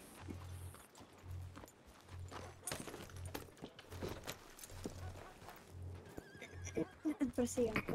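Horse neighing and whinnying in the Wild West game RedM, with steady clip-clop hooves in a regular walking rhythm beneath, and a voice talking over the scene near the end.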